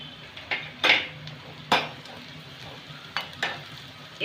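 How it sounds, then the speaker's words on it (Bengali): A spoon stirs chopped ginger, green chili and asafoetida in a pan of hot oil, with several sharp scraping strokes and clinks against the metal at uneven intervals over a soft sizzle, close up. "একটু আমি নেড়ে নেব"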